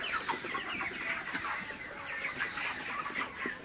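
A flock of broiler chickens clucks and chatters continuously while drinking water, many overlapping soft clucks close by with a busy murmur of farm birds.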